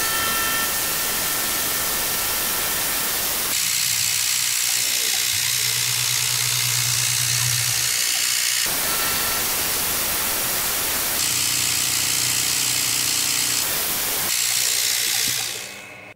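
A CNC mill takes a final cut on a metal part for a lathe CNC conversion, a loud continuous machining roar whose tone shifts in distinct stretches, with a steady low hum underneath, fading at the very end.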